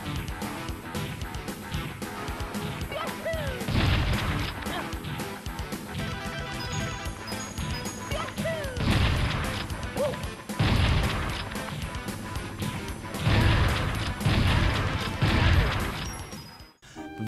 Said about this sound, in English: The majority of enemies in the way of your shotgun blast will get annihilated.